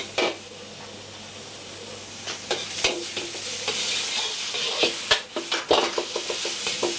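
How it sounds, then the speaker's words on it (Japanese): Ground meat stir-fried over low heat in a pan, a steady soft sizzle with repeated scraping and stirring strokes of a utensil, no voices. "弱火で炒めていきます"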